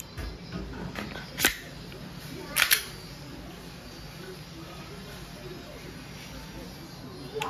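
Two sharp, short pops from an Umarex airsoft Glock 17 Gen 5 MOS gas pistol running a gas magazine, spaced about a second apart against quiet background hiss.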